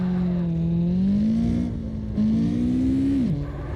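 A car in the CarX Drift Racing Online game slides through a drift, its engine droning loud and steady while the pitch climbs, dips at a shift, then climbs again before cutting back as the throttle lifts.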